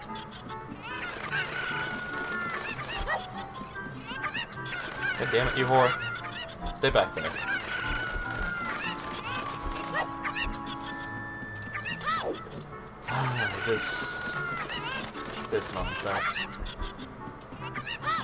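Chickens cluck and squawk in Ocarina of Time, scattered game bird calls running through the stretch under steady talking from a player, with game music and effects mixed in.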